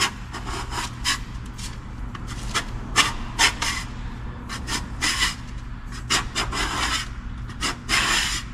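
A Harbor Freight scraper rasps across a boat's hull bottom during a bottom job, in a run of short, gritty scraping strokes of uneven length, fairly close and steady, with no talking.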